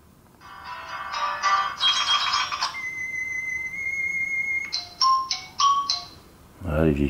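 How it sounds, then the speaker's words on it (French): Old ringtones play one after another on a Chinese iPhone 6 clone: short tinkling melodic snippets, a sustained tone, then more chiming fragments, close and fairly clear, with a voice briefly at the end. "Voilà les vieilles sonneries"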